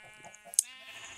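Farm animals bleating in Minecraft, a short nasal sheep-like bleat with a sharp bright click in the middle, fairly faint and brief against a quiet game background.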